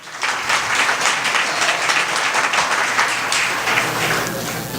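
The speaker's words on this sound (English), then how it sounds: "Please give them a round of applause" Applause from an audience at a live Somali Night community event, a dense steady crackle of many hands clapping throughout, moderately loud and fairly close, with no speech over it.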